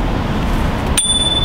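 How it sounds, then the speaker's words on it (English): A single bright ding of a Xiaomi M365 electric scooter's small bell rings once near the end over steady rumbling background noise, its tone lingering briefly. "The M365s actually have a little bell."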